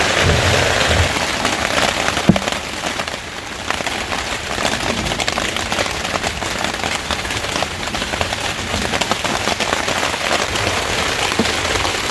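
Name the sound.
heavy rain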